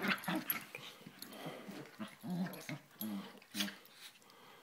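A Westie and a Yorkie play rough indoors, with close growls, yips and whimpering snarls in irregular bursts while people talk over them.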